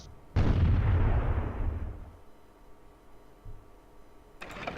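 A single heavy boom rings out as units fire on bowmen in Imperialism II, rolling away over a couple of seconds, with a softer thump afterward and a short click near the end.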